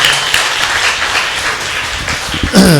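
A church audience claps after being prompted by a preacher, a brief burst of dense, close applause that holds steady and then ends with a sudden sharper sound.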